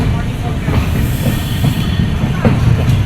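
A passenger train leaving Howrah in winter runs with a loud, constant low rumble and wheel noise, heard from inside a carriage with faint clatter and hiss throughout.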